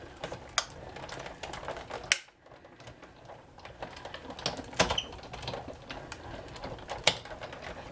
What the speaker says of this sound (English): We've got the big shot out.